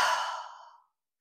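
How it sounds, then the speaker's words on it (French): One forceful breath blown out during a breathing exercise: a strong, airy exhale that starts at full strength and thins away to silence in under a second. "Souffle froid."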